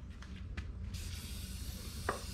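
Short hissing bursts of spray cleaner misted onto the tires of an abandoned 1976 GMC Sierra in a garage, a few separate squirts over a steady low background hum.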